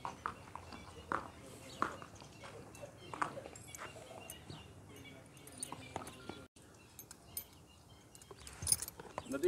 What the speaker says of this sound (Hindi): नदीम, घोड़े की उम्र है?